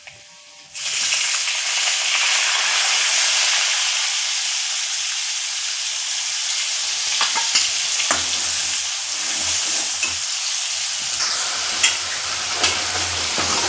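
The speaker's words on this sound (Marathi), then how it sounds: "प्युरी ना चांगली परतून घ्यायची म्हणजे कांद्याचा आणि लसणाचा कच्चा वास ना निघून जातो" Onion-garlic puree sautéing in a pan with crushed ginger, curry leaves and asafoetida for sambar: a loud, steady close-up sizzle that starts abruptly and hisses on continuously with faint stirring underneath.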